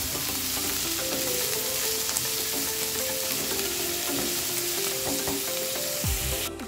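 Large potato pieces fry in hot oil in a pan, a steady, dense sizzle that runs unbroken throughout, with faint clinks of stirring underneath and a brief knock near the end.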